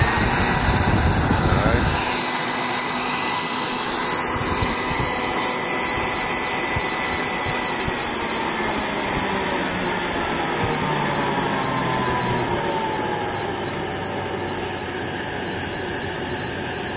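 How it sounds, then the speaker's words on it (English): A vacuum cleaner motor used as a forge blower runs with a loud, smooth, continuous whine and roar, settling to an even pitch after a brief spin-up at the start. "This is a vacuum cleaner motor."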